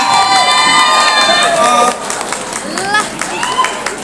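An audience at a community cultural programme claps and cheers, with a loud burst of excited shouting and whistling voices at the start. It then settles into scattered applause and crowd chatter.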